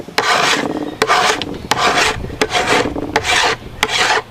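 A file rasps metal off a chainsaw bar in loud, close, evenly paced strokes, about seven long scraping passes each separated by a short pause, with no talking.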